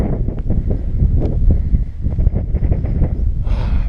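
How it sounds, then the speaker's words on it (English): Gusty wind buffets the microphone on a hilltop path up Moel Famau, a low, rumbling roar that rises and falls in near, steady gusts. "Very breezy, very welcome."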